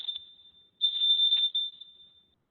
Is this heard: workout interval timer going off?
yes